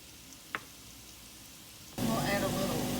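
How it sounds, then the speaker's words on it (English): Squash and peppers dropped into a hot pan for a stir fry: near-silence with a faint clink, then a sudden loud, steady sizzle of sauteing vegetables. "And let that just start sauteing up."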